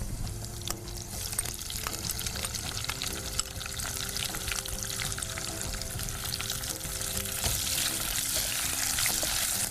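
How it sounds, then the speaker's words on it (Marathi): Vertically sliced onion fries in a hot tempering of oil for fodshi bhaaji, a steady close sizzle with crackles and occasional stirring sounds that continues throughout. "एक मोठा कांदा चिरून घेतलाय उभा तो सगळा आपण फोडणीला घालायचा आहे"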